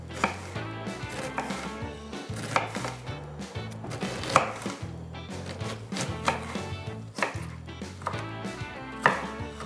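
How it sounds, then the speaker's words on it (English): A knife slices onions thinly on a cutting board, giving steady, close chopping taps at an even pace, quiet and without speech. "Another secret is to slice your onions very thinly to caramelize it better"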